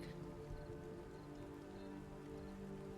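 Steady rain falls in a scene from the TV series The Expanse, a constant dense hiss of drops on surfaces, even and close throughout with no voices.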